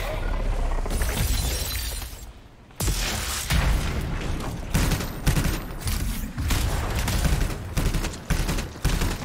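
Video game gunfire while shooting at an enemy, a dense series of loud cracks and bursts with brief gaps, close and harsh, with a voice talking over it.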